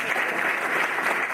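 Applause from an audience in a hall at a cadet school celebration, a steady wash of clapping heard alone for a moment.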